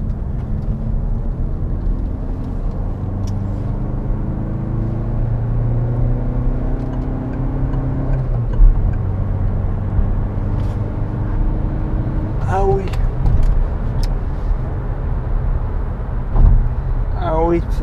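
A Citroën DS engine drones and gradually rises in pitch as the car accelerates out of a bend, steady cabin rumble throughout, with brief voices over the noise.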